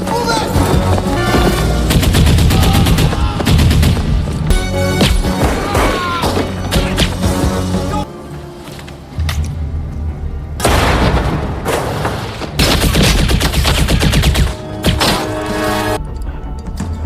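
Heavy gunfire in a school shootout in a 1996 action crime thriller, with loud continuous bursts, booms and crashes across the whole stretch and only a brief dip in intensity midway.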